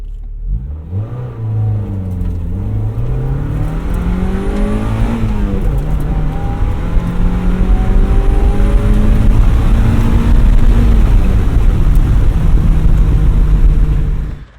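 A stock Mazda MX-5 Miata with the 1.8 engine accelerates hard, its revs climbing and dropping through several gear shifts in rising sweeps, loud and continuous, heard from the car with faint tire noise and no talk.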